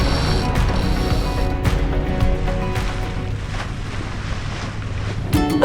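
Wind buffets the microphone with a steady roar as water rushes past a sailboat's hull in strong wind, and occasional creaks and knocks come from aboard.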